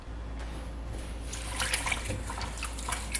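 Kale rinsed under a kitchen tap makes a brief, faint wash of running and splashing water close by.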